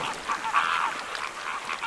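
Flamingos on a beach give nasal honking calls, a short cluster of goose-like honks heard at moderate distance over soft background noise.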